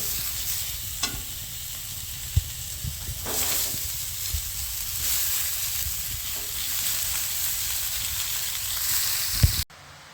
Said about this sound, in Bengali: এবারে আমি কেটে রাখা বাঁধাকপি দিয়ে দেবো এর মধ্যে